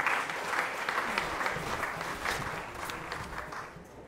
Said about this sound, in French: Merci de l'applaudir très fort, s'il vous plaît.